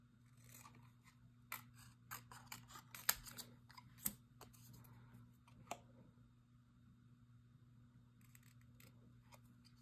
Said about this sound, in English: I'm gonna go through and cut out our cute little potion bottles